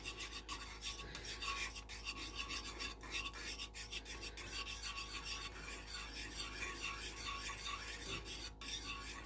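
A spoon stirs a butter roux and scrapes the bottom of a pot in a continuous rasping, scratching rhythm, fairly quiet and close, with no talking.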